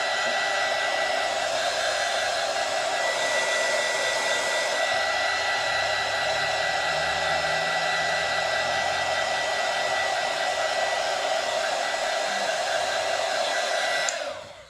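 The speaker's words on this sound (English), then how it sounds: "let me use this heat gun here" A resin heat gun blows over epoxy coasters with a steady, loud, airy whir that holds constant for about fourteen seconds before cutting off abruptly.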